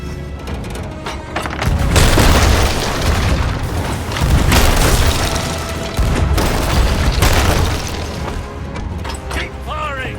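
Ship cannons firing in the pirate game Sea of Thieves, heavy booming blasts rolling one into another, loud and sustained, with a voice shouting over the barrage.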